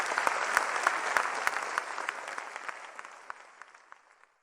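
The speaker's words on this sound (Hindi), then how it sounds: "जोरदार तालियों से मंच पर स्वागत करती हूँ।" A crowd at a Hindi poetry gathering (kavi darbar) applauds loudly to welcome a poet to the stage, dense clapping close and full at first, then gradually thinning and fading toward the end.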